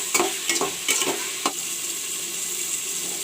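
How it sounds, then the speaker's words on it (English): Chopped tomatoes, peas and onion fry in a pan for khichdi: a few close stirring scrapes at the start give way to a steady, even sizzle with no talking. "I will let the tomato fry along with the peas and onion."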